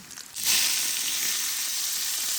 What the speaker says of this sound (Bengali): আমি পেঁয়াজটা ভাজি করি